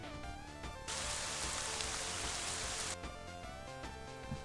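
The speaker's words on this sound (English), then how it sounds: "So it sounds like there's more water droplets hitting the ground at the time." A rain sound effect in RPG Maker VX Ace swells into a dense hiss of many droplets hitting the ground, sustained for about two seconds before easing back under game music.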